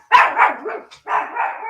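Dog barking close by: two loud, full barks, the first drawn out into a wavering whine-like tail, then a short gap and a second sustained bark, with no talk.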